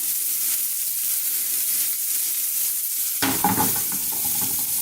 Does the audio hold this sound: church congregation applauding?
no